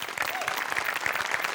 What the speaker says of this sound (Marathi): आपल्या सगळ्या टीमसाठी आपणच एकदा टाळ्या वाजूया